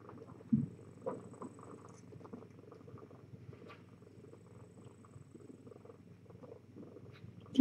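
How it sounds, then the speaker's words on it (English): A kitten purrs softly and steadily up close, a low continuous rumble with a couple of small bumps and rustles near the start. "You hear the kitten purrs."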